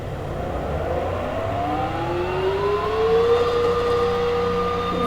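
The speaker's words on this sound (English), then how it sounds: "Let's rev it." A limited-edition Western Sergal convertible engine revs up, its tone rising in a long sweeping climb that peaks and holds, heard close and fairly loud with no speech.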